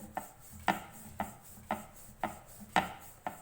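Rolling pin pressing pizza dough on a board: six evenly spaced soft thumps with brief rubbing scrapes, repeating at a steady half-second rhythm, close and fairly quiet.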